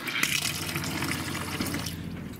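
Water runs steadily from the kitchen sink tap in an Aliner hard-side pop-up A-frame camper trailer, a continuous near splashing stream that thins out toward the end.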